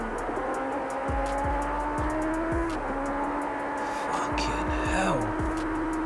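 A Porsche Turbo races at high speed on a public street, its engine droning loudly and continuously as other cars whoosh past one after another, with a brief tyre squeal and a person talking over it.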